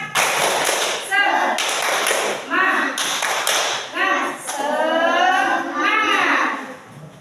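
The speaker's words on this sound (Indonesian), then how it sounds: "tepuk semangat dulu. Tepuk semangat." A class of schoolchildren performs the 'tepuk semangat' clapping chant in a classroom, with sharp unison claps in a quick rhythmic pattern alternating with shouted group chanting, loud and close.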